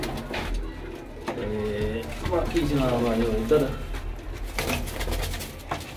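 Sialkoti and golden pigeons coo repeatedly in soft, throaty bursts close by, while someone talks over them throughout.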